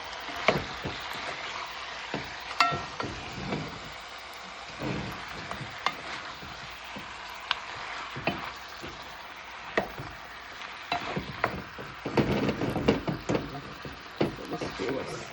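Chicken browns in caramelized sugar in a pot with a soft, low sizzle, broken by intermittent knocks and clatter as the pieces are turned. A voice talks over parts of it.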